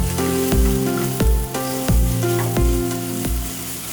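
Ginger paste sizzles loudly in a hot pan for chicken curry, a constant close frying hiss broken by regular stirring scrapes roughly every half second or so, with no talking.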